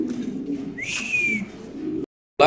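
A male pigeon calls once, a single rising then slowly falling cooing tone over a low background hum, fairly close, followed by a brief gap and a short burst of noise.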